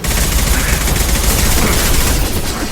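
A high-impact gunshot in Mass Effect 2 Legendary Edition, heard as a dense, loud, sustained barrage of gunfire with heavy low-end booming that carries without a break.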